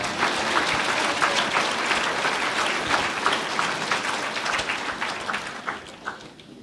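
A church congregation in Sucre, Bolivia, claps loudly and continuously in praise, a thick, close roar of many hands that holds steady and thins a little at the close.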